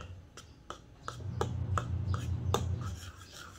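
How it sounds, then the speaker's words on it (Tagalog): Pancake batter stirred in a bowl, heard as a series of about nine rhythmic taps and scrapes of a utensil against the bowl, close and fairly quiet. "Tapos, haluin."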